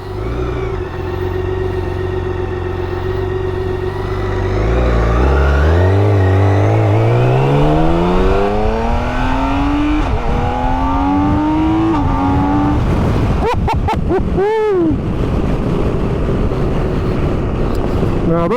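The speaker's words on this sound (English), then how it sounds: "that exhaust pipe, or the exhaust note, sounds a hell of a lot louder than" A BMW K1600 GT motorcycle with a flashed ECU upgrade runs its engine and exhaust hard, revving up through rising gear pulls with shifts in between, loud and close, under heavy wind rush.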